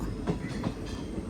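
A train rolls slowly along a hill line with steep grades and tight curves, giving a faint, low rumble with soft periodic clacks from the wheels on the track.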